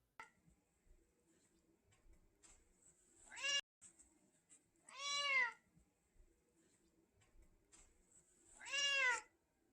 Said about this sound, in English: Loud. Loud cat.